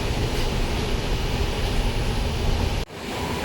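A passenger train running from Thiruvananthapuram to Ernakulam through Kerala's forests, hills, rivers and backwaters, with a loud, steady rumble and rattle of carriages that dips sharply for a moment near the end and then resumes.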